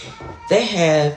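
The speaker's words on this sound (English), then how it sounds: "you might hear my cat in the background" A pet cat meows loudly in the background of an indoor room, a single drawn-out cry cutting across a person's speech.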